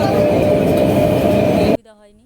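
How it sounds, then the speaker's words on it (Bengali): A passenger train arriving at a Bengal station, a loud, steady rumble of wheels and carriages close by that cuts off abruptly near the end. "সঙ্গে সঙ্গে ট্রেনটাও চলে এলো।"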